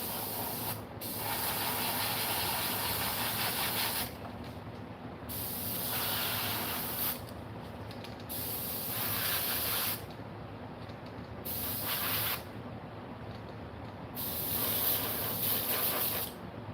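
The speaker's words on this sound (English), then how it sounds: "I like to just keep constant little spray going so it doesn't clog the tip" Airbrush spraying pearl paint onto a Hobbs Golden Shiner 1.5 fishing lure, a soft continuous hiss broken by several brief pauses and restarts, close and quiet.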